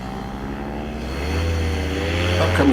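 Paramotor engine during a forward launch into wind: a steady droning hum that swells as the throttle comes up, fairly close and continuous, with a brief rustle near the end and no clear talk.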